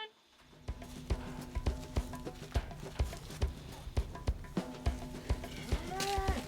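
A herd of cows walks through a new farm gate, with steady hooves clopping and thudding in a regular rhythm close by, while a person calls to them.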